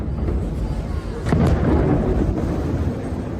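An explosion destroying a building in Khan Younis, Gaza, gives a deep, heavy blast with a sudden surge around the middle, followed by a sustained roaring low boom that lingers to the end.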